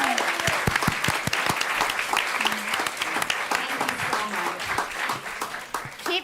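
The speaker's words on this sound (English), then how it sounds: "Keep giving them a round of applause" An audience claps at a talk on food as medicine and eating for health, a steady, fairly close round of applause with some individually distinct claps and murmuring voices mixed in, tapering slightly near the end.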